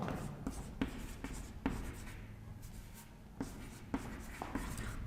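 A marker or chalk writes a name on a classroom board in short scratching strokes with sharp taps, faint and close, with no talking over it.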